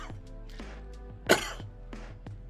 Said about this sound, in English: If I keep having this cough